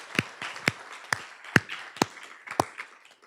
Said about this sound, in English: Can I just give another round of applause for Linda